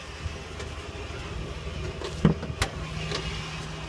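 A car engine with a fault, running with smoke and a suspected oil leak, gives a steady low rough drone with a sharp knock or clunk at about two and a quarter seconds and another brief spike shortly after.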